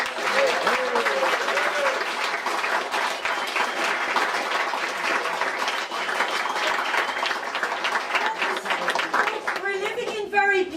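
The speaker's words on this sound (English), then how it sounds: "I'd like you to give Sean a very special round of applause." Sustained audience applause fills the room at a speech event, dense and steady clapping from a large crowd throughout, with a few voices breaking through near the end.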